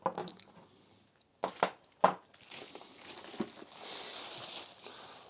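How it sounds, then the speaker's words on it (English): Knife slicing through packing tape and crinkly plastic wrap around a boxed Sheen M-1200 game console, a few sharp rips and crackles followed by a steadier rustle of plastic, close up with no talking. "I would much prefer to cut this tape and then instead of stretching the hell out of the plastic"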